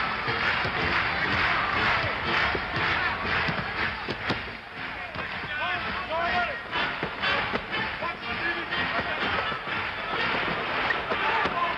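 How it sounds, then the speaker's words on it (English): A large arena crowd at a 1976 NBA Finals game between the Celtics and Suns cheers and applauds a rookie guard, a dense steady roar with a broadcast commentator talking over it. "there's a lot of hot hands applauding him"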